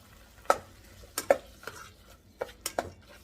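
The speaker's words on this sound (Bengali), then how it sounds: "এইবার আবার একটুখানি নাড়িয়ে দিতে হবে" A spatula stirs salted spices in a cooking pan, giving a few sharp scrapes and clinks spread across a short, quiet stretch over a faint sizzle, with no one talking.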